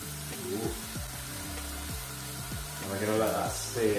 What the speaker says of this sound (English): You want a bit of a sizzle, which we are getting.